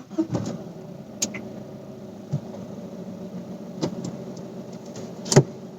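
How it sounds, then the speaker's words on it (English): A Honda City sedan's 1.5-litre i-DTEC four-cylinder turbocharged diesel engine idles as a low, steady hum heard from inside the cabin, with a few small clicks and knocks scattered over it. "let's just start the engine"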